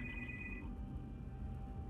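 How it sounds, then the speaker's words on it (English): An electronic telephone ring tone trills briefly at the start, then gives way to a faint, steady tone over low background rumble. "Darn phone ringing"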